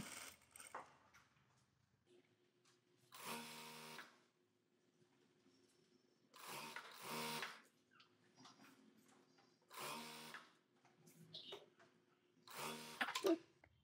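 A sewing machine stitches fabric for a bow sleeve in four short, regular bursts of rapid mechanical whirring, separated by quiet pauses.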